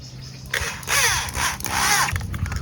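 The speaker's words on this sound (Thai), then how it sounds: "ยึดสกู ยึดสกู" Screws are driven into a PVC pipe clothes rack, with two loud grinding bursts of a power driver biting into plastic, separated by a short pause.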